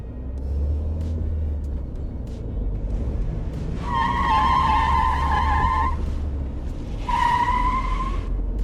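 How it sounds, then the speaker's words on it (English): A speeding car skids as the driver loses control, with a loud tire squeal rising over road rumble in two sharp bursts, the second shorter. "a speeding driver loses control and nearly wrecks his ride."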